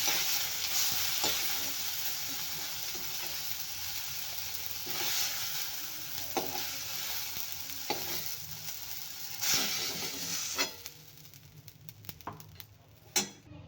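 Tomato masala fried and stirred in a pan for a soya chunks gravy, a soft steady sizzle with periodic spatula scrapes against the pan, close but quiet, fading toward the end with no talking.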